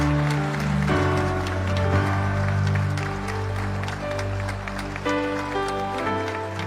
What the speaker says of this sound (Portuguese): Vamos aplaudir agora.